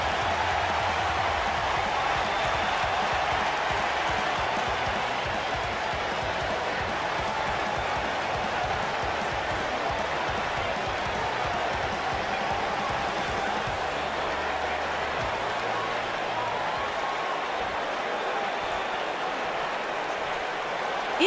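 A sold-out arena crowd in the WWE 2K wrestling game before a Hell in a Cell women's championship match makes a steady roaring cheer and applause wash, loud and unbroken, with a low rhythmic thumping underneath.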